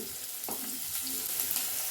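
Steady close sizzling and crackling of chopped onion frying in hot oil in a pan, with a brief stir or scrape partway through.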